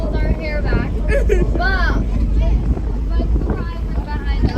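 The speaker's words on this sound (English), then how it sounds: "It's really windy, so we have to hold our hair back." Strong wind batters the microphone outdoors near the water in British Columbia, a loud low rumble and buffeting that runs continuously under a person talking.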